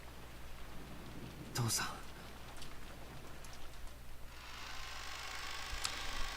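Steady rain falls in the visual novel Umineko, a constant soft hiss that swells brighter toward the end, with a sharp crash near the start and a brief spoken word over it.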